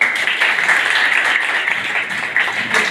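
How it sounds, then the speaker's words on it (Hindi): Students clapping together in a school classroom, a bright continuous burst of hand claps at close range with little talk. "ताली बजाओ।"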